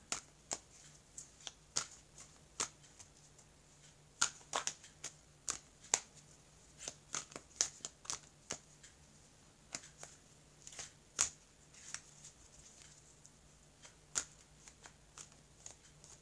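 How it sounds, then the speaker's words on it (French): Tarot cards being shuffled by hand: a series of sharp riffling snaps and soft rustles at irregular intervals across the whole stretch, close and fairly quiet over a low steady hum, with no talking. "Je vais mélanger mes cartes."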